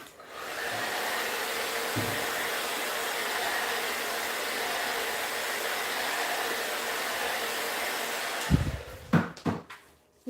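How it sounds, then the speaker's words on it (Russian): A hair dryer runs steadily at low power for a hairdresser's foil colouring work, a constant whooshing airflow that stays even for about eight seconds before cutting off, followed by a few brief clattering handling noises. "Я работаю на небольшой скорости мощности фена"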